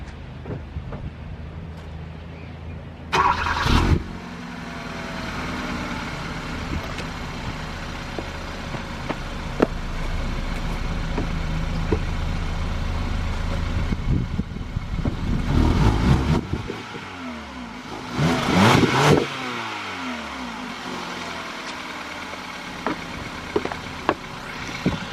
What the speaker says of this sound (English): I'm going to give you guys a cold startup now on the vehicle.